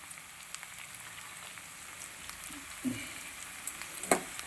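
Shallots stirred as they fry in a pan, a soft low sizzle with a few scraping stirs and small pops near the end, faint and alone.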